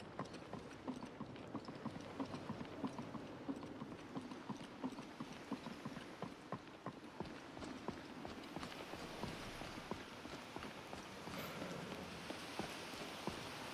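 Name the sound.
horse hooves clip-clopping in the video game Skyrim VR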